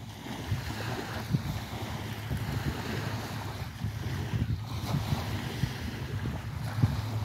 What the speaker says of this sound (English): Let's take a look into the waves.